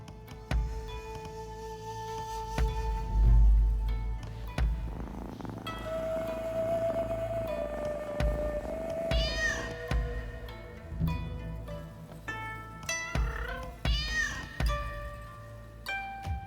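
Cat meows and purring from the video game Rise of the Ronin, short mewing calls over a steady purr, set against game music and ambient tones with no speech.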